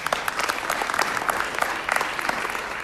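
A short burst of audience applause at a music competition, lively, close clapping with scattered sharper claps standing out, steady for a few seconds.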